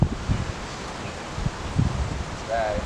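Gusty wind buffets the microphone outdoors, with leaves rustling and a faint bird chirp near the end.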